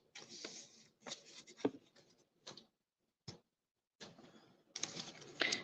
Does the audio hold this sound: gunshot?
no